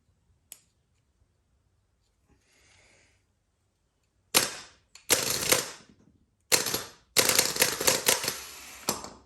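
Quiet clicks, then several loud bursts of whirring, grinding mechanical noise from a Land Rover Defender 200 TDI starter motor turning, each lasting about a second, close up with brief pauses between.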